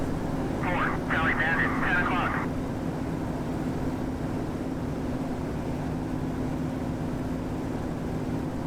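A Focke-Wulf FW190-A8 fighter engine in a DCS combat flight sim drones steadily at high revs, a continuous loud tonal hum that runs throughout, with a brief burst of talk over it early on.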